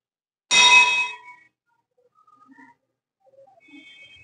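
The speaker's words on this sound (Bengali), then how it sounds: "একটি ঘন্টাও আছে।" A single loud metallic clang of a bell at a Shiva temple rings out once and decays over about a second, followed by faint distant background sounds.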